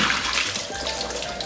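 Water drains and splashes out of a bowl of vegetables in a kitchen, a steady close rush of liquid heard alone.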